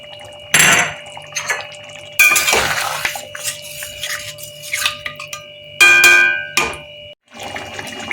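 A metal pot lid is lifted and a cornflour-and-water slurry is poured into green chicken with spinach: distinct clanks and clinks of metal cookware, pouring liquid, and stirring scrapes in separated bursts.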